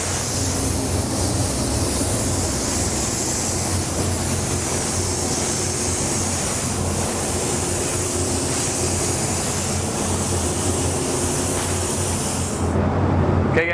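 Spray gun laying down a coat of Createx candy paint with pearl flake, a steady loud hiss of atomized spray running continuously for about thirteen seconds before cutting off abruptly.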